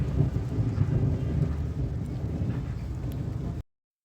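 Steady rain with low rolling thunder on a rainy day near a rooftop garden and plant nursery, a dense continuous rumble and patter filling the whole stretch, no voices.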